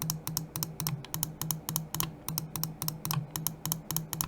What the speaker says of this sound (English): I'll give you a quick sound test for the side buttons here